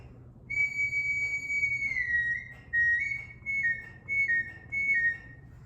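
A handcrafted wooden sawgrass bird whistle gives a bright, pure tone in a long sustained note, then several shorter bursts with brief gaps, close and fairly loud.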